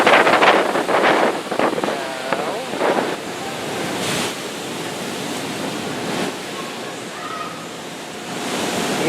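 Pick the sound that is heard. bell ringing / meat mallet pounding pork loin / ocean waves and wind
ocean waves and wind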